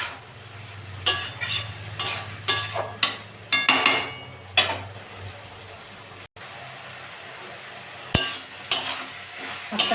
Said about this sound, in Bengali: শাকটা নেড়ে চেড়ে ভাজা করে নেব।